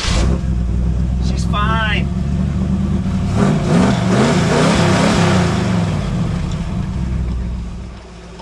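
An older pickup truck's engine warms up with a steady mid-pitched idle that swells into revving partway through, close and loud beneath a few spoken words.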